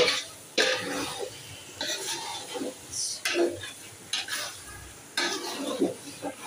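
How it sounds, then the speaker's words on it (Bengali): Meat stirred and fried in a pot for bhuna khichuri, with bursts of spoon scraping and sizzling against the pot, interrupted by coughs and throat clearing nearby. "মাংসটা দিয়ে দিলাম, এবার নেড়ে চেড়ে"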